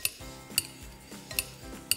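A pastry cutter chops hard-boiled eggs in a bowl in a home kitchen, giving four sharp metallic clinks at a slow, uneven pace over a soft scraping background.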